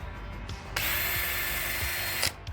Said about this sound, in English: it's drill time.